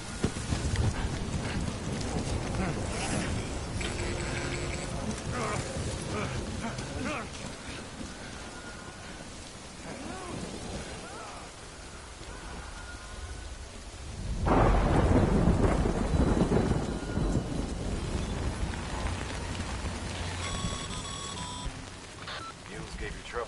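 Rain and rolling thunder from the video game Death Stranding: steady rainfall hisses throughout while low thunder rumbles swell, with one loud crack near the middle, and faint electronic beeps appear at times.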